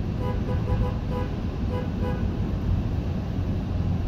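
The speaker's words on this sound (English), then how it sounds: "We'll give you the obligatory honking in the tunnel here." Car horn honked inside a road tunnel near Asheville, North Carolina, a steady sustained tone riding over loud, droning traffic and engine rumble that fills the enclosed space.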